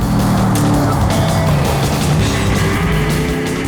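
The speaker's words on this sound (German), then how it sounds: "Wenn man da leicht aufs Gas geht, da geht es schon ganz schön vorwärts." A Mosler MT900 race car accelerates hard, its engine note loud and close throughout with a dense, continuous roar and rising tonal pitch, and no talk over it.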